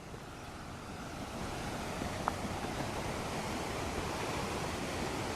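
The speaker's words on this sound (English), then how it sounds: "Just magnificent surf." Steady broadband rush of ocean surf at Bathsheba with a continuous hiss and no distinct breaks, heard from a distance with some wind noise, no voices.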